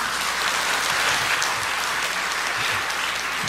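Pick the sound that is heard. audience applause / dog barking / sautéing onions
audience applause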